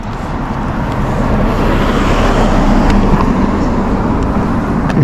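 A car passes along a road, a steady broadband rush of tire and engine noise that stays loud and close for the whole stretch, with no talking.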